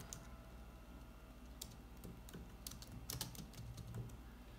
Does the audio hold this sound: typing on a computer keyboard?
yes